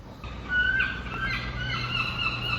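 Harsh, wavering bird cries ring out over a low outdoor rumble, several overlapping calls rising and falling from a moderate distance.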